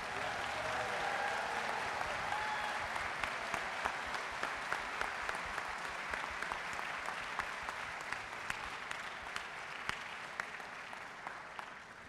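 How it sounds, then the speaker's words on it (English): An audience applauds at an outdoor TUBACHRISTMAS holiday concert, a steady wash of many hands clapping that runs unbroken throughout and slowly tapers toward the end. "So I want to give them a round of applause."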